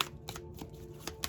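A deck of tarot cards is shuffled close by in quick bursts of riffling and sliding card noise, several short flurries in a row.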